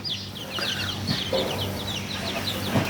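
Hens and a fighting-cock breeding rooster clucking in a farm pen, a string of short, close clucks and chirps over a low background hum.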